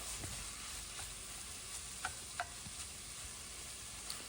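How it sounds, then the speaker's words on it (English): Salted onions frying in a pan for chicken curry, a steady soft sizzle with a few light scrapes and taps from stirring, heard close and alone. "what we're looking for here right now is for the onions to soften up and start to brown"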